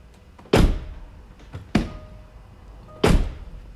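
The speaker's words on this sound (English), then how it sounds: "When we do that one thing, which is opening the door." A car door clunks open and shut in a garage-like quiet: three distinct sharp thunks spaced over a few seconds, close and fairly loud, with faint background noise between them.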